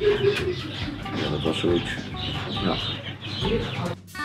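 Laying hens of several breeds, including Isa Brown, White Leghorn and Dutch Cuckoo, clucking and murmuring nearby in a steady stream of close, busy calls, while someone speaks briefly over them.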